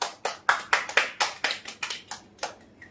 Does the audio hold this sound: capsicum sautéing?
no